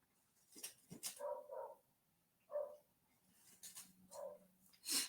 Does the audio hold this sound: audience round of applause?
no